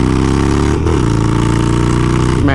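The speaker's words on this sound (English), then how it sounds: "And the Harley Sportster is one of those awesome, fun to work on bikes. Solid engine. They sound great." A Harley-Davidson Sportster motorcycle engine runs close and loud, a steady low throbbing idle with brief rev changes, no voices over it.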